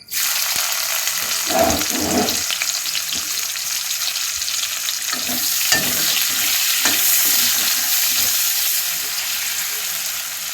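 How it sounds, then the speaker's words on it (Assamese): Onions go into hot oil in a home kitchen pan after meat has been browned, setting off a steady close sizzle broken by stirring scrapes and clatter. "এতিয়া পিঁয়াজখিনি দি দিম তেলত।"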